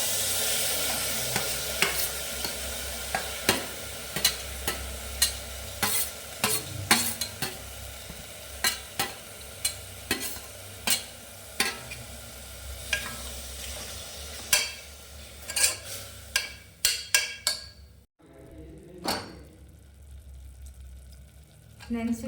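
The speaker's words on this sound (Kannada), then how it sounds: "ಎಣ್ಣೆ ಕಾದ ನಂತರ ಟೊಮೆಟೊ ಹಾಕಿದ್ದೀನಿ" Tomatoes frying in oil heated in a pan, a steady sizzle broken by frequent sharp scraping stirs, near and loud, with a brief sudden drop near the end before the sizzle returns.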